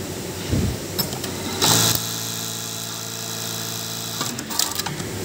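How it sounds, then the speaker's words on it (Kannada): A JUKI LBH-1790S industrial buttonhole sewing machine runs steadily with a continuous mechanical whir and rapid stitching hum, punctuated by a few sharp clatters and clicks, heard close up with no talking. "ಸ್ಪೀಡ್ ಲಾಕ್ ಮತ್ತು ಅನ್ಲಾಕ್ ಯಾವ ಥರ ಮಾಡೋದಂತ ಬಟನ್ ಹೋಲ್ ಮಿಷಿನ್ LBH-1790S"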